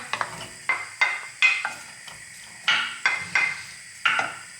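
Sharp metallic clinks and scrapes repeat irregularly, with short sizzling bursts after each, as chicken is stirred and fries in a hot pot.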